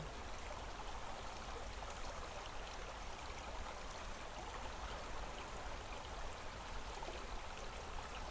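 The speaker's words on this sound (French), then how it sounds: "écoutez le bruit de cette eau qui coule autour de vous" Flowing water, a steady, even rushing stream or trickle that fills the whole stretch without breaks, with no voices over it.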